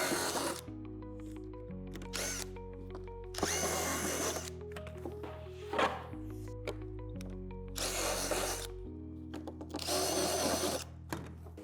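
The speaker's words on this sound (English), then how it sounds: "You can use a Phillips head screwdriver, or I like to use a Phillips head bit in my drill." A power drill fitted with a Phillips bit, run in several loud bursts of varying length with short pauses between, while plastic is cleared from the holes of a Lifetime 10 x 8 ft dual-entry outdoor storage shed roof panel.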